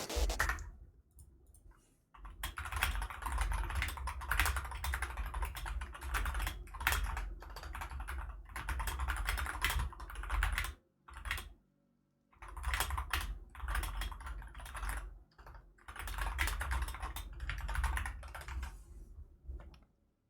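Dense bursts of computer keyboard typing run through most of the stretch, fast and loud with short pauses between flurries, close to the mic and without talk.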